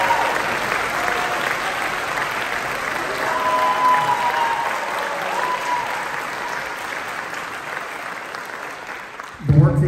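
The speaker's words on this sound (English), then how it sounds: "So if you'll help me give applause to Zach Rankema." Audience applause at a high school spring band concert, a sustained clapping crowd filling the hall at even loudness, with a short, louder knock near the end.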